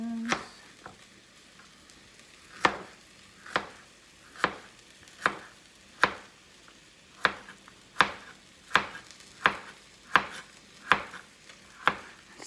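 Knife chopping and slicing vegetables on a cutting board for beef bourguignon, a steady run of about fifteen crisp, evenly spaced cuts, close and clear with no talk.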